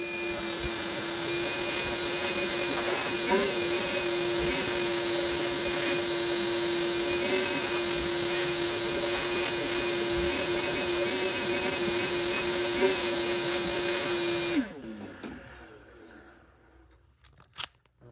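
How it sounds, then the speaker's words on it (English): A vacuum cleaner cleaning a barn-find Sorcerer pinball machine runs loud and steady with a constant whine, some rattling and scraping in between, then it powers down and winds to silence near the end. "I'm gonna take this off and I'm gonna vacuum it real quick"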